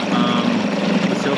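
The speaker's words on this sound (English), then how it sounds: "What I'm gonna do now is just let it idle for a while in gear and see if it dies." A Yamaha 5 hp outboard engine idles in gear, a steady close buzzing hum with a regular low pulse and no pauses.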